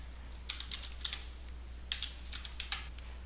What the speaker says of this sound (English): I'm going to type it over here